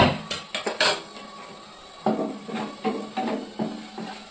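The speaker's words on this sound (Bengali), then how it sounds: "এবার ঢাকনা খুলে দেখে নেবো টমেটো সিদ্ধ হয়েছে কিনা" A lid lifted off a pan of simmering tomatoes, heard as a few sharp metallic clinks and clatters, then softer knocks and scrapes of cookware, close by and brief.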